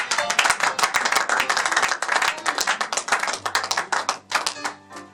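A church congregation claps in steady unison to acclaim Jesus, crisp and evenly paced throughout, with a low musical note entering near the end.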